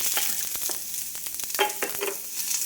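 Overnight-soaked peas fry with onion in a pan for masala oats, giving a close, constant sizzle punctuated by quick spatula stirs and scrapes.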